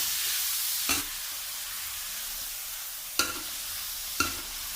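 Garlic stir-fries for dry instant noodle suki, a continuous hiss of sizzling oil broken by three crisp spatula strikes against the pan, with no one talking.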